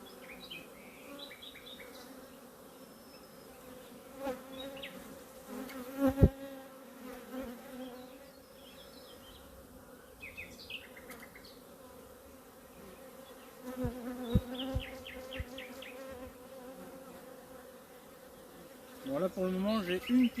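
Bees from an aggressive hive buzz close by in a busy, wavering drone, with sharper passes and knocks at several points.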